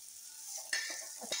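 Fish frying in a pan, a quiet, close crackle with scattered pops and stirring scrapes over a faint hiss, no voices.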